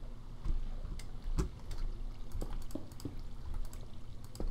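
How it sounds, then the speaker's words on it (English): Waterfall in the Minecraft Tekkit modded game, a steady splashing, pouring wash of water that runs continuously at moderate level with a few brief louder splashes, and no talking over it. "This is a big ass waterfall."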